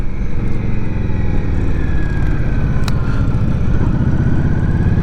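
Indian Scout Rogue Sixty cruiser motorcycle riding along, a steady low engine drone with rumbling exhaust throughout, close and continuous, with a faint rising whine and a brief sharp click partway.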